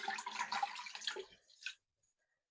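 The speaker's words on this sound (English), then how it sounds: "So we'll put the water in." Water pouring into a cooking pot holding chicken pieces for stock, a splashing broadband gush lasting about two seconds before cutting off into near silence.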